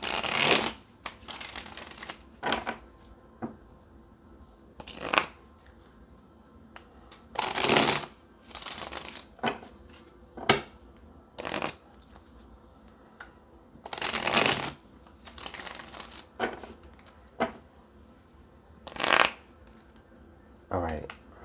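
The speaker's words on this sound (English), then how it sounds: "let's go ahead and get some more cards out here on the table" Tarot cards shuffled repeatedly in bursts of riffling and snapping, each flurry a second or so long, close and fairly crisp, separated by quieter gaps with faint background noise.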